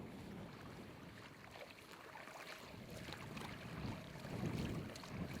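Steady wind and lapping water around an open boat at sea during a whale hunt, with men paddling out. A continuous rushing wash, slightly louder toward the end, with no talking.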